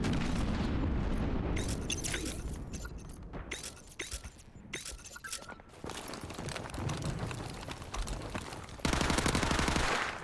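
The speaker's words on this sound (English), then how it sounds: "This gun's so good for hip firing." A gun in Mass Effect 3, played as a Soldier on Insanity difficulty, is fired from the hip in rapid bursts. Loud automatic shots repeat over game explosions and effects, with a final dense stretch of continuous fire.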